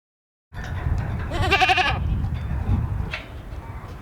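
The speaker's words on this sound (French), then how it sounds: "il faut faire les présentations avec la chèvre du Rove, car il n'y a pas de brousse du Rove sans chèvre du Rove" Rove goats on a farm making brousse du Rove cheese let out a wavering, drawn-out bleat over steady outdoor rumble and shuffling, with a shorter call following.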